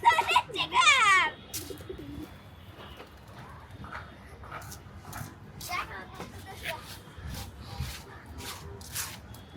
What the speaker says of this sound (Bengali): এটা তোমার প্রিয় কবুতর?